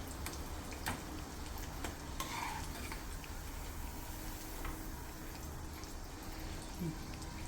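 Sweet poori dough frying in hot oil for a festival treat, a quiet continuous sizzle with faint scattered ticks and crackles, close by and steady.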